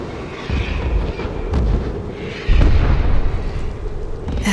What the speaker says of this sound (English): I'm seeing bombs go off and explosions